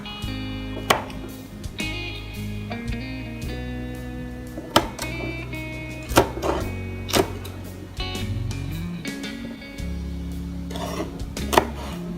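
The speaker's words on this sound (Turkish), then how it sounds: "Süs biberlerini de büyükleri 3'e kesiyorum." Ornamental peppers being cut with a knife on a board while mixed pickles are prepared, with scattered crisp chopping clicks over a steady background hum.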